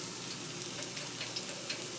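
Spoonfuls of cornmeal pancake batter dropped into a hot pan sizzle and fry with a steady, dense crackle and small pops, no voices.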